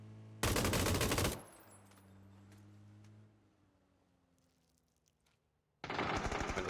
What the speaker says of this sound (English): Oh, it's just a barrage laying down M249.